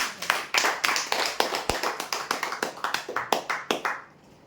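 A crowd applauds at a customer prize draw as the second winner of a rolling chair is announced, with brisk, steady clapping for about four seconds that then stops abruptly.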